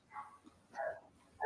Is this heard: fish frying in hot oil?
no